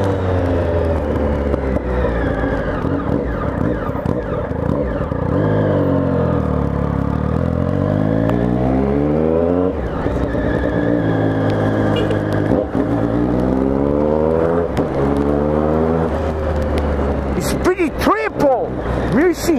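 A Triumph Speed Triple 1050 motorcycle engine revs repeatedly, rising and falling in loud, close sweeps of pitch with clattering mechanical noise, while someone speaks at times.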